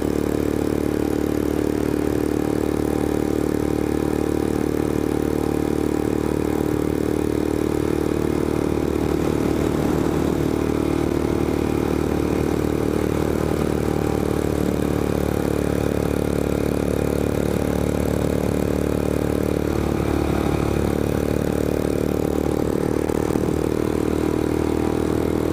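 Royal Enfield Scram 411 motorcycle engine pulling steadily up a long mountain climb at a constant 45 to 50 mph, a continuous loud low drone with wind rush that holds even throughout, no voices.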